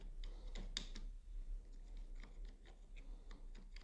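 Keys tap out a search query in the Chrome browser on a computer keyboard, a quick irregular run of light, close clicks over a faint low hum, with no voices.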